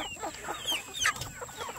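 Free-range meat chickens with dark blue feet cluck and call in short, overlapping bursts, including a few sharp higher squawks, fairly close and steady throughout with no talking.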